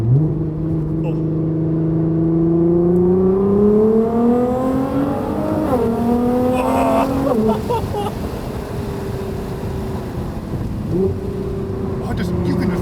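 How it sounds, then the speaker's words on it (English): A Nissan R35 GT-R's engine revs hard and close, a loud buzzing drone sweeping upward through several pulls with short dips between, then settling into a steady rumbling run. "this engine sounds nuts"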